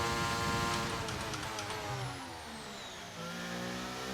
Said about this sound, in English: Using lots of battery, hitting the rev limiter